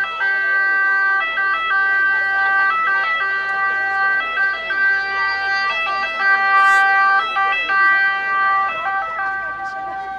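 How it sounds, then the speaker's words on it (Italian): A close ambulance siren wails in a steady repeating two-tone pattern as it moves through a crowd at a town fireworks festival for San Pio in Stornarella, loud and continuous for the whole stretch. "facciamo un canale per far passare l'ambulanza."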